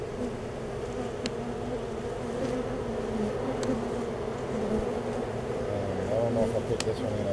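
Honey bees living in a bird house hum in a dense, continuous buzz close by, with occasional sharper passes of single bees and someone talking over it.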